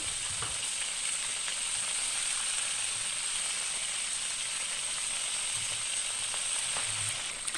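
Fish fries in a wok with scattered ginger and spring onions, giving a steady, close sizzle and hiss throughout with no talking.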